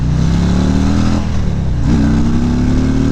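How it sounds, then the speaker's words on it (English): A 2018 Harley-Davidson CVO Limited motorcycle rumbles under throttle on a test ride, its exhaust a loud, close, deep drone rising steadily in pitch as it accelerates, with a brief dip midway. "Now we're gonna open this baby up, and you can hear the exhaust"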